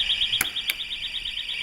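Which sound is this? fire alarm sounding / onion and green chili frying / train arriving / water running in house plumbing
fire alarm sounding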